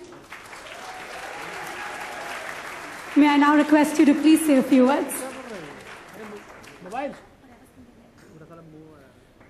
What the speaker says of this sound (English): Applause once again.